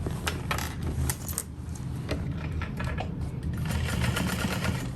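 A sewing machine runs steadily up close stitching backpack pieces together, with rapid mechanical ticking and clicks over a continuous hum.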